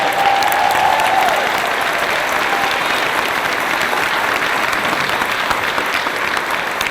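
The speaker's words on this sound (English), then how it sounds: "give yourselves a huge round of applause" Loud, sustained applause from a large crowd at the WFG Wealth Bowl 2017 corporate event, steady dense clapping throughout with no pauses.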